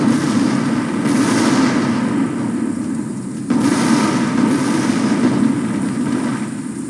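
Continuous rumbling artillery barrage in the tank battle game Total Tank Simulator, with dense overlapping booms and blasts forming a loud, steady roar that briefly dips and then surges again.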